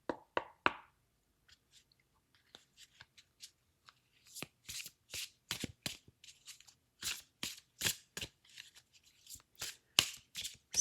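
Tarot cards are shuffled in a quiet room, first a few soft isolated taps, then a steady run of crisp, close riffling bursts that grow busier toward the end.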